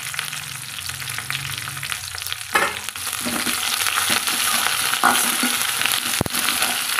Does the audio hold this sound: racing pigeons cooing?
no